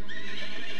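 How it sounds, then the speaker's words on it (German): A horse whinnies loudly in the video game America No Peace Beyond the Line, one short, clear neigh with no talk over it. "Die besoffenen Pferde finde ich so geil."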